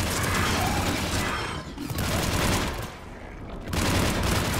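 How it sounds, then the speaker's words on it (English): Artillery fire in Mass Effect 3, a loud continuous roar of rapid gunfire bursts with mechanical clatter that dips briefly twice before surging back. "There's the artillery."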